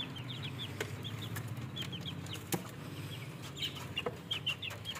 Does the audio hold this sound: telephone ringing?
no